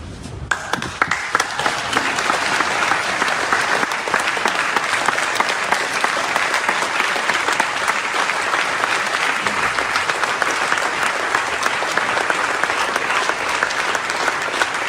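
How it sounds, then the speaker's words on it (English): An audience in a hearing room breaks into sustained applause, a dense, steady wash of clapping from many hands lasting the whole stretch without pause, loud and even. "Yeah, a standing ovation for that."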